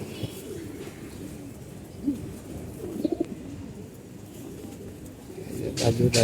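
Old-breed pigeons give soft, low coos amid a murmur of background noise, with a brighter flurry of sound rising toward the end.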